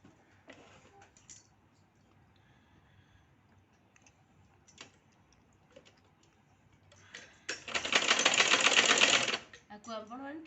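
A sewing machine stitching fabric for a double katori blouse piece: quiet handling and a few clicks, then a loud, fast, even whirr of stitching close by for about two seconds, followed by a faint voice.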